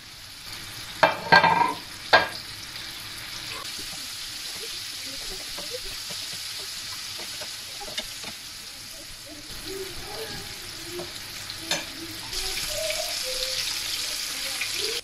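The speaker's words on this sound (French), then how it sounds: "mon huile est bien chaude et on va venir faire cuire la boulette" A meatball cooks in hot oil in a pan, giving a steady sizzle with a couple of sharper bursts near the start and a louder hiss toward the end, with faint kitchen clatter underneath.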